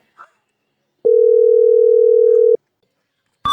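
A telephone dial tone sounds while a call is placed, a steady loud tone lasting about a second and a half, followed by a brief burst of another voice or sound at the end.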